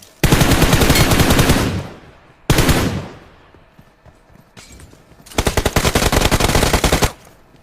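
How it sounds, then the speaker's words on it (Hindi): UMP submachine gun firing in a shooter game: three loud, close bursts of rapid automatic fire, the first two around two seconds each, then a longer burst, with quieter gaps between. "यूएमपी का परफेक्ट यूज देखो यार, इतने डिस्टेंस पे कैसे शॉट्स पे शॉट्स चिपकते चलेगा इनके।"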